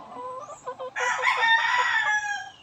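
A Allen Gray rooster crows once, loud and close, its call preceded by a few short clucks.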